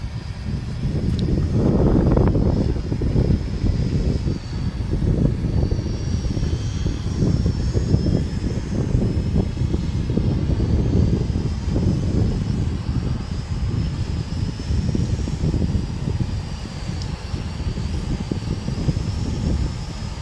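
An SJRC Z5 or Contixo F22 GPS beginner drone flies outdoors, its steady propeller hum running continuously through the clip under heavy gusting wind buffeting the microphone; no one speaks.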